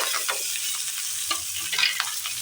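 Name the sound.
stirring and frying in oil in a pan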